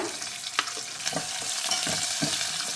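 Green chillies and curry leaves crackle and sizzle in hot oil while a spoon stirs and scrapes the pan, a short busy burst of frying noise without speech.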